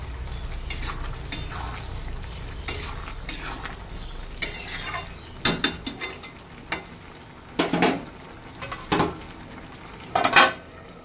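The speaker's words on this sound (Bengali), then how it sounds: "ভালো করে নেড়ে চেড়ে ঢাকা দিয়ে দেবো।" Ghugni being stirred in a pot with a metal spoon, scraping and clinking against the sides in irregular bursts over a low sizzle, ending with a few sharp clanks as a lid goes on.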